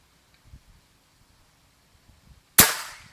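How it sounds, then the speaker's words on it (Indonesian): A single sharp, close crack from a Gorilla X2 PCP air rifle with a power plenum breaks a near-silent outdoor quiet, fading quickly after the shot. "Tembakan ke-7."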